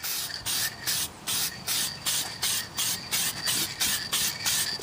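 A light spray coat goes onto the wooden cabinet of a 1961 Seeburg AY100U jukebox under restoration, in about a dozen steady, evenly spaced hissing bursts, close and fairly loud, with no talking.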